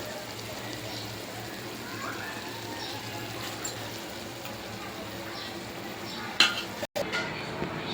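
Curry masala for koi fish and potato curry being stirred and sautéed in a pan, a continuous soft sizzle with scraping stir strokes and a few utensil knocks near the end.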